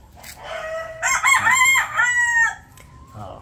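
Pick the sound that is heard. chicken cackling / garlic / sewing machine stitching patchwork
chicken cackling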